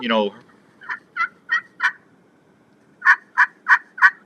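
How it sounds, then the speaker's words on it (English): An excited turkey hen yelps in two quick runs of four short, clear notes each, separated by a brief pause and heard close with no talking. "That's your excited hen yelping, right?"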